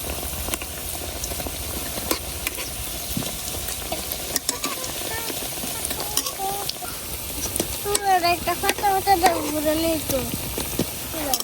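Spinach pakora fritters frying in oil in a pan over a gas flame, a continuous close sizzle with stirring and turning sounds and a few clinks, while people talk over it.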